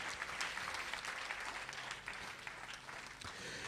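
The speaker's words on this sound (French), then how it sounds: "Applaudissez un peu Jésus" A church congregation applauds during a French sermon, a continuous crackle of many hands clapping that sounds distant and fairly quiet, with a faint murmur of voices underneath.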